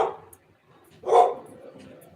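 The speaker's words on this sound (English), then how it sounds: "there's one of the dogs" A dog barks once at close range, a short loud bark after a faint earlier yelp, with quiet room noise around it and no talking.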